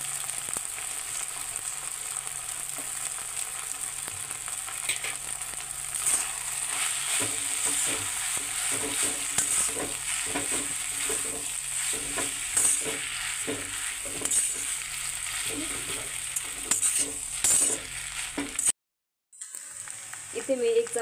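Veg noodles being stir-fried with green chili sauce and cabbage in a pan, a steady loud sizzle with constant scraping and clinking of a utensil, a brief break near the end, with a voice speaking intermittently over it.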